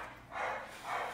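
A French Bulldog puppy gives two short, soft yips or barks a moment apart, faint and somewhat muffled amid low background noise.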